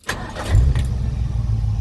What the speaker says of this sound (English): I do want to do a quick warm startup and just show you how easily this truck does start.